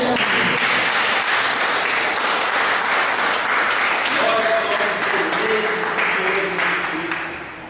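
A church congregation claps loudly and steadily for several seconds, with a voice and some tonal sound entering partway through before the applause fades at the end.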